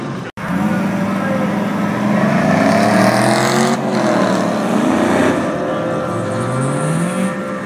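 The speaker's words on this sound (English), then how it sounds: "Not sure if you could hit a little rumble on that turbocharger as it came out." A turbocharged car pulls out at a Summer Nationals car event, its engine rumbling loud and close as the revs rise and fall in sweeping pitch before settling.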